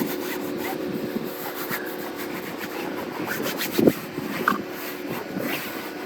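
Hand scrubbing of car seat cleaner worked into an interior surface during a detail, a steady soft rubbing rasp with a few sharper scuffs near the middle, close and moderately quiet.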